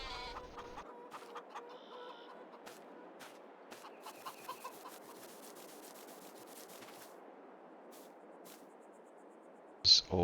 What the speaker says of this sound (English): Chickens are good.